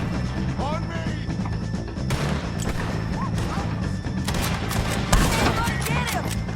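Rapid gunfire crackles through a firefight in Red Dead Redemption 2, dense overlapping shots and impacts under a constant din, with voices shouting over the battle.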